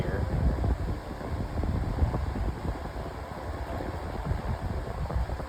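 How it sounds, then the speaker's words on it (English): A 3-in-1 fan running at speed, a steady loud rushing whoosh of air like a high velocity fan, continuous and close with slight fluctuations, no talking. "It sounds more like a high velocity fan, as you can hear."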